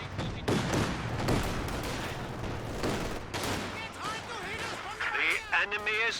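Rattling bursts of gunfire and distant booms from a Company of Heroes 2 real-time strategy battle, dense and continuous under a commentator talking throughout.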